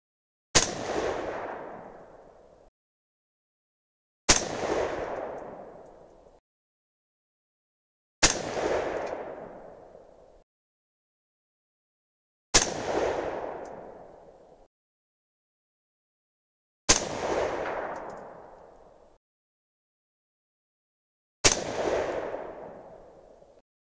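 A 6.5 Creedmoor rifle firing Berger 130gr AR Hybrid OTM Tactical loads with VihtaVuori N555 powder. Six loud, separate shots come about four seconds apart, each with a short ringing decay, and there is no talk.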